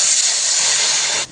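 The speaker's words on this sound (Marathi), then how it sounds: "पाणी घालून घेऊया" Water poured into a hot pan of ground chili and coriander masala for a Maharashtrian masvadi rassa sets off a loud, steady steam hiss that holds evenly, then cuts off sharply at the end.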